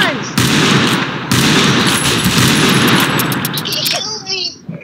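Gatling guns fire in a Wild West video game, a loud continuous rattling burst that fills most of the moment, then breaks off as an excited young voice shouts.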